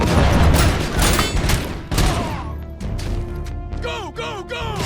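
Heavy gunfire bursts in the RoboCop: Unfinished Business video game, loud and rapid, with crashing impacts, then sparser shots as chirpy electronic effects and clipped voices come in near the end.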